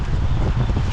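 Strong outdoor wind buffeting the microphone, a loud steady low rumble throughout a short moment.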